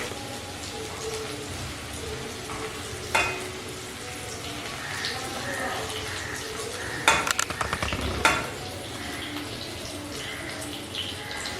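Bitter gourd frying in hot oil gives a continuous crackling sizzle, broken by a few sharp clanks and scrapes of a spatula against the pan, with no talk.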